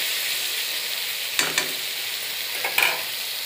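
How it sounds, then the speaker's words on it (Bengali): Garlic and ginger fry with onion in a pan, a steady soft sizzle with a few brief scraping stirs of a spatula standing out close by. "এরপরে রসুন আদা দিলাম, একটু ভালো করে আরও একটু ফ্রাই করে নেব"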